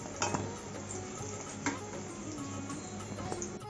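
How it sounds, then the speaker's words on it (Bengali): Steady sizzle of pumpkin and potato frying in oil, with a few clinks and scrapes of stirring, fairly close and moderately loud. "ভালো করে নাড়িয়ে চাড়িয়ে ভেজে নিচ্ছি কুমড়া আলু"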